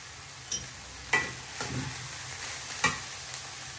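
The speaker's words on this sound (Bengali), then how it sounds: "এখন দিয়ে দিলাম জিরা আর গরম মশলা বাটা" Cumin and garam masala paste frying in a pan, a steady close sizzle broken by a few sharp scraping stirs.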